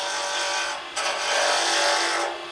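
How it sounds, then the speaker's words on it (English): A sharp 3/8 bowl gouge works a wooden pen blank spinning on a lathe, making a continuous close hiss and rasping scrape with a brief dip as the cut changes. "I like to use it's about a 3/8 bowl gouge, nice and sharp, and nice and slowly we're going to go back and forth."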